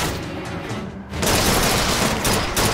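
Loud, close gunfire in the video game Bioshock Infinite rattles in a dense burst that quiets briefly and then resumes.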